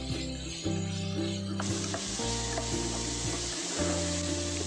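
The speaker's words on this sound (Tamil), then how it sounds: "ஏன்னா இந்த தக்காளி கொஞ்சம் வதங்கணும் அதுக்காக." Tomatoes with salt sautéing in a pan for a fish curry, a steady close sizzle with occasional stirring clicks, under a sustained humming tone from a nearby kitchen appliance.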